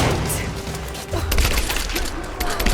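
Assault rifle gunfire in the video game Rise of the Tomb Raider: a rapid, continuous volley of loud shots rattles on close by, with heavier thumps of impact mixed into the stream.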